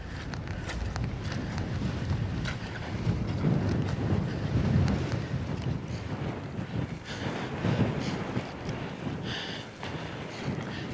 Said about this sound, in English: the wind would take your breath away